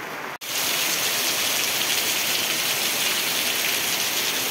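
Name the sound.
rain falling on fields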